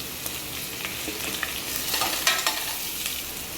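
Onions, chana dal and curry leaves frying in a pan, with a continuous soft sizzle and occasional light scraping as the mixture is stirred, close and fairly quiet, with no talking.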